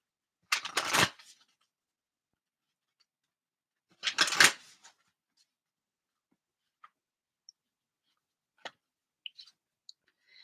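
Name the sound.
shuffling oracle cards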